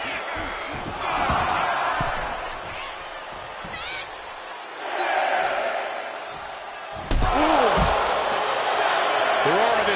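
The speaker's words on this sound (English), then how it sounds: "The roar of this crowd has been building, and they are at a fever pitch right now." A large wrestling arena crowd at a live WWE Raw show roars continuously, with rising swells and a louder surge near the end, heavy reverberant cheering under sharp thuds from the ring and commentary voices.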